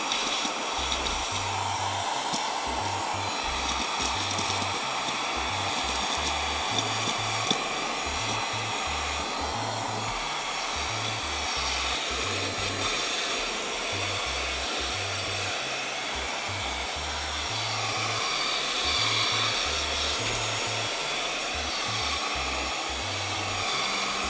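A small electronics vacuum drones with a steady high-pitched whine and rushing airflow as it sucks up crushed generic Cheerios, holding a constant level with no voices.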